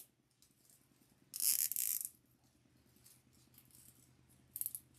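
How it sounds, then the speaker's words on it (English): A zip tie ratchets quickly as it is pulled tight on a deco mesh heart wreath. A short, sharp burst comes midway, and a brief faint click follows near the end. "and zip tie it right there at the top."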